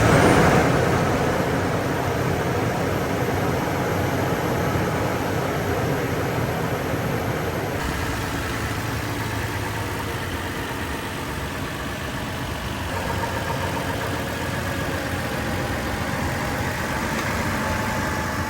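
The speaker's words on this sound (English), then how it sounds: "Let's take a listen to how this engine sounds like." Toyota 4Runner engine running at idle, loud and clattery when cold, a steady continuous mechanical drone with a slight rattle, close and alone with no talking.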